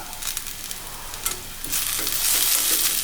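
Grated coconut and masala sauté in an iron pan with a close hiss of frying oil and scraping stirs, the sizzle swelling louder toward the end, with no talking.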